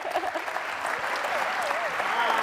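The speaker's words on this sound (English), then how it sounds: "So big round of applause." An audience at the Zero Project Conference 2025 opening ceremony gives sustained, dense applause that swells slightly toward the end, with voices and cheers faintly mixed in.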